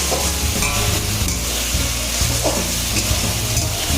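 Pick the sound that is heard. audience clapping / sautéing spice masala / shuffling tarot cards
sautéing spice masala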